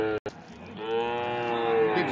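A 15-month-old Sahiwal bull lets out one drawn-out, fairly close moo lasting about two seconds at a busy rural cattle market, with no speech during the call.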